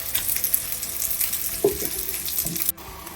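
Ginger garlic paste sizzles and fries in a pan over a medium flame, a steady close hiss with a couple of soft stirring knocks before it cuts off abruptly.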